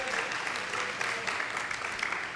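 An audience applauds steadily through the whole stretch, a dense, even wash of many hands clapping at moderate volume with no pauses.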